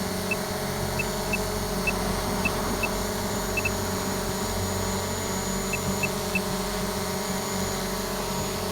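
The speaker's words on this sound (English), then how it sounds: "now the drone will go off" A DJI Mavic Pro drone whirs steadily with a high electric propeller drone, constant and fairly near, with faint periodic beeps over the hum.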